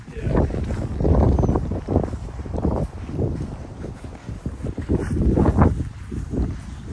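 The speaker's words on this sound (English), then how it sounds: "Dude, it is so windy." Strong wind buffets the microphone out on the water during a catfishing trip, loud rumbling gusts rising and falling throughout, close and dominant with no clear talk.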